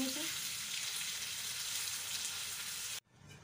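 Chicken keema hits golden fried onions in hot oil and is stirred in a pan, producing a dense, loud, continuous sizzle that cuts off abruptly near the end.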